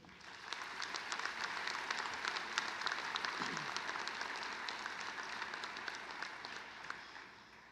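An audience at a university Founders Day presidential inauguration applauds in a steady, moderately quiet patter of many hands that holds evenly throughout.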